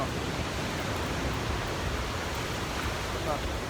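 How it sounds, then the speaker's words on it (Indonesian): Ocean waves at Lhok Ketapang beach roar as a steady, broad wash of surf, continuous and fairly loud with no distinct breaks between swells. "ombaknya"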